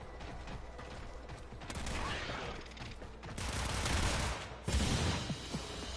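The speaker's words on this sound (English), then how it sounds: "My gun fires so fast the game glitches and I just lose 20 bullets" Rapid automatic gunfire from a gun in Warframe, several bursts of dense, fast shots that come and go, with a sharp louder burst near the end and a busy game background.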